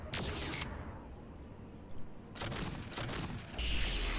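Rapid bursts of weapon fire from battling mechs in MechCommander 2, the real-time strategy game, crackling in clustered volleys with short lulls between them and a heavier, louder burst near the end.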